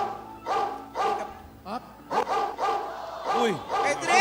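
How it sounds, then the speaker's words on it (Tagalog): Several dogs at a neighbour's place bark in repeated short bursts, fairly close and loud, with people talking over and between the barks. "Akala mo ba yung mga aso ay nasa farm? Kapitbahay lang."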